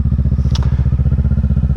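A 2023 Kawasaki Ninja 650 fitted with a Yoshimura Alpha exhaust idles close by, a loud, deep, rhythmic parallel-twin burble pulsing evenly with a brief metallic tick in the middle.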